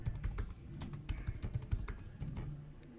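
Quiet, quick typing on a computer keyboard, a steady patter of light key clicks entering a search keyword, with no voice.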